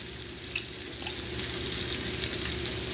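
Pork loin frying in a pan, a continuous broadband sizzle that swells slightly louder partway through, with faint crackles and no voices.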